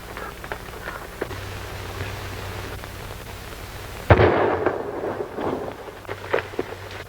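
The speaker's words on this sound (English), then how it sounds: "That shot came from the other side of that arroyo." A single gunshot cracks out in an old western film, one sharp sudden report partway through, followed by scattered rustling and movement over a low, steady background hum.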